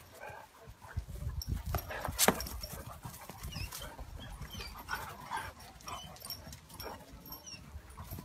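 Rescued Bracco Italiano dogs play together, with soft whimpers, snuffling and scuffling, plus a brief jangle, all fairly close and continuous with no speech.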